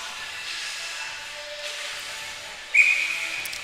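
A referee's whistle stops play during a U18 female ice hockey game after the puck is chipped into the netting. It gives one sharp, fairly loud blast near the end, over steady arena hiss and crowd ambience.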